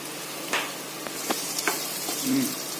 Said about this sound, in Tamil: அந்த வெங்காயத்தை இந்த ஆயில்ல போட்டு